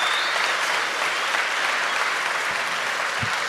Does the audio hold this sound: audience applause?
yes